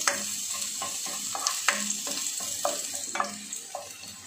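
Garlic sautéing in about a spoonful of oil in a pan, a continuous sizzle broken by repeated scraping stirs and light clinks of the utensil against the pan, close and fairly even.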